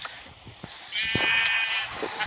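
A goat bleats in a video game after being killed, one drawn-out wavering cry heard clearly over faint game sounds and light background noise.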